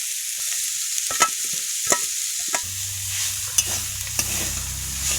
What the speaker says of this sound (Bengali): এবার খুন্তি খুঁটে খুঁটে দাও, চিংড়ি মাছগুলো দিয়ে দেবো